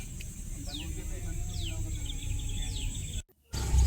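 A few faint bird chirps, each a quick downward whistle, repeat at spaced intervals over a low outdoor rumble that briefly cuts out, at the Rayagada viewpoint in Odisha.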